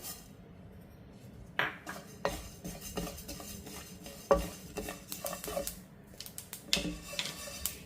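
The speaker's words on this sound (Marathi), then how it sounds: "आता तीळ भाजून घेऊया" Sesame seeds are dry-roasted in a pan for crisp peanut flatbread, heard as a soft dry rustle and light sizzle broken by a spoon scraping and clinking against the metal, close and irregular with no talking.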